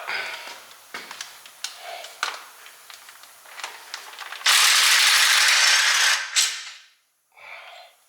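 A hand ratchet clicks in quick bursts as bolts are backed out on a Mazda Miata during clutch work, the close ratcheting broken by short pauses, followed by a louder rushing metallic rattle and a final short burst.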